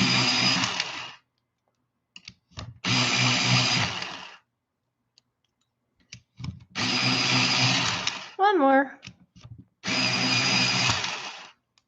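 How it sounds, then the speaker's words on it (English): An electric pencil sharpener grinding colored pencils for a Christmas portrait drawing, running in four loud bursts of one to two seconds each, separated by gaps. A voice speaks briefly between the bursts. "Ignore the sharpener noise, guys."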